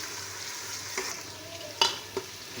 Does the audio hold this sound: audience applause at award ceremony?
no